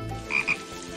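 A cane toad gives a pair of short, bright croaks in quick succession, moderately close over a low, steady outdoor background.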